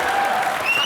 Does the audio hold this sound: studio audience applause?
yes